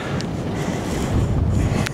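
Strong wind buffets the microphone on a mountain summit in Snowdonia, a loud continuous roar that gusts a little stronger midway, with no talking.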